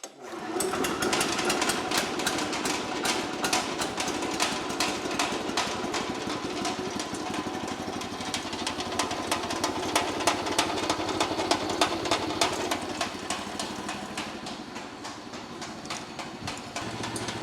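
A Wood-Mizer sawmill's small engine starts on choke and settles into a steady, fast, clattering run, loud and close, with a rapid mechanical chatter that continues throughout.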